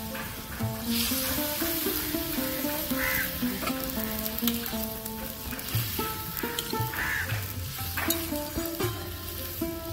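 Eggs and potatoes frying in a pan for a raw mango and egg dish, a steady close sizzle with repeated scraping and stirring strokes throughout, plus faint tonal clinks.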